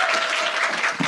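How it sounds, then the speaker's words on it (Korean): An audience claps in dense, continuous applause that fills the short moment, loud and close, with no voices over it. "박수 한번 치고 시작하겠습니다"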